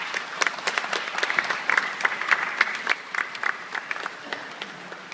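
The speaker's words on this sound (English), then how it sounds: "Can we give her another applause, please?" Audience applause at the end of a speech, a dense spread of many hands clapping steadily for several seconds, moderately loud and continuous with no talk over it.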